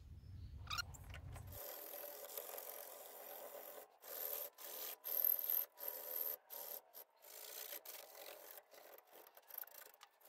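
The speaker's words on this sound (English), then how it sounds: "come back with some super fine sandpaper and get that smooth." Hand sanding of a carved wooden fishing lure tail piece with super fine sandpaper, a soft, faint rubbing rasp in repeated short strokes broken by brief pauses.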